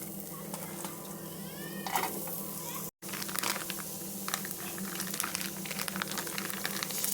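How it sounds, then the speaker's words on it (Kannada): Onion frying in oil in a pan, a moderate sizzle with stirring clatter and scraping, briefly cut by a short gap of silence, then continuing with sharp crackles; no clear talk. "ಫಸ್ಟ್ ಈರುಳ್ಳಿ ಹಾಕ್ಕೊತೀನಿ."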